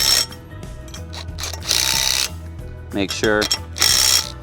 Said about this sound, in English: So I have right here my drill with a 3/4 inch socket